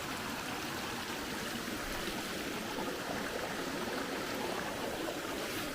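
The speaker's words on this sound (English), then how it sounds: "Now here we've got a bridge crossing the creek." A creek on the Bartram Trail rushes beneath a hiking bridge near a campsite, a steady, close, broadband wash of flowing water that never lets up, with no voices.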